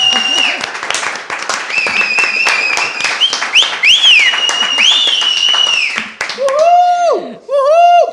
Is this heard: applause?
yes